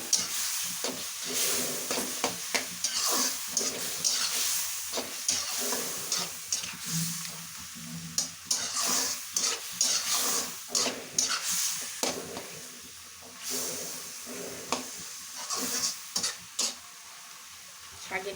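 Spinach stir-frying in a pan, a steady crackling sizzle with repeated scraping stirs and soft hissing steam throughout, close and moderately loud.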